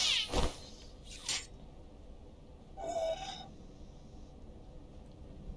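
A cat in the cyberpunk video game Stray meows a few times, short tonal cries spaced apart over quiet game ambience, with no talking.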